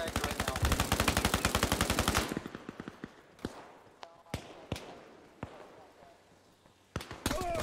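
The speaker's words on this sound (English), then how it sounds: "Laying down suppressive fire." Machine gun suppressive fire in the video game Arma Reforger: a loud rapid burst lasting about two seconds, followed by scattered single shots and short echoing cracks at irregular intervals.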